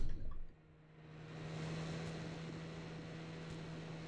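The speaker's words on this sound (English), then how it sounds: "The engine sounds a bit off" A trawler boat engine in the ARMA 3 video game runs slightly off, giving a steady low droning hum with a constant tone under broad mechanical noise after a brief dip at the start.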